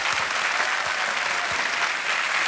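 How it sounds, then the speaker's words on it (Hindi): Sustained applause from a studio audience on a Hindi-language TV quiz show set, dense and steady throughout with no pauses, as a contestant from Ahmedabad, Gujarat takes the hot seat. "ताली बजती रहे इनके लिए"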